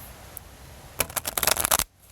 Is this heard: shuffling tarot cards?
yes